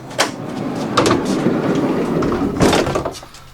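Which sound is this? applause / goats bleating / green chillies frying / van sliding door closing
van sliding door closing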